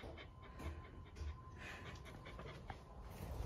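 Farm dogs pant in quick, steady breaths, close by but quiet, with a faint whimper mixed into the rhythmic huffing.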